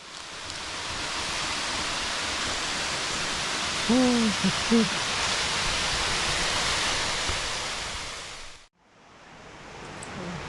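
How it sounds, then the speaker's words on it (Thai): A forest waterfall roars as a steady, loud broadband rush at a rain-soaked campsite, with a brief owl-like hoot midway; the sound cuts out briefly near the end before resuming. "เจอน้ำตก โอ้โห สวยมากครับน้ำตกที่นี่ฮะ"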